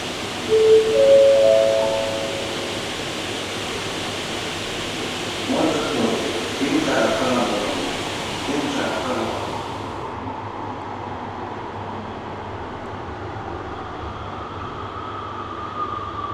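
Broadband rush of wind sweeping through a rural Japanese railway station as a train approaches, a steady roar swelling and holding loud, with faint distant rumbling and a brief tonal squeal early on.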